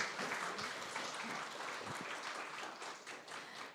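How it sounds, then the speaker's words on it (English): Audience applause after a contestant's pitch at an EdTech hackathon final, a dense, steady clatter of many hands from a sizable crowd, continuous for the whole stretch and tapering only slightly at the end. "Big applause, please"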